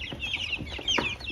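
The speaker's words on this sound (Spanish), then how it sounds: "Esta es la rutina de los pollitos de engorde." Broiler chicks being handled during a morning care routine, a flurry of high, rapid cheeps and peeps from several birds close by, continuous across the moment with no talk.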